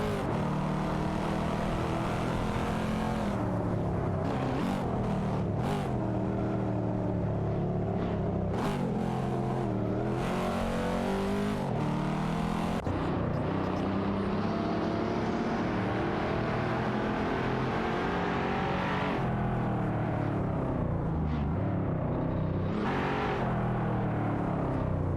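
Race car engines from a BMW and a Lexus RCF in a racing game, a continuous droning roar with rising and falling revs as the cars battle closely, steady and loud throughout with no talk.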